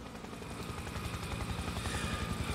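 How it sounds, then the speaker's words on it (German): A helicopter's rotor chops steadily in Spec Ops: The Line, a loud continuous beating whir with a broad engine roar, staying close throughout without any talk. "Da kommt ein Heli."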